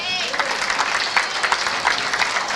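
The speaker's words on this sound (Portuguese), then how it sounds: "Você pode aplaudir o Senhor?" A church congregation applauding during a revival sermon, producing a dense, steady wash of many hands clapping together at moderate volume throughout, with a brief voice at the start.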